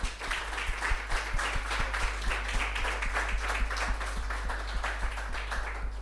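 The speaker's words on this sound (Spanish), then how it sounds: "Entonces démosle un aplauso a la palabra del Señor" Applause at a church service, with steady, dense clapping from a congregation that continues evenly for several seconds at moderate volume, along with a regular low tapping beat underneath.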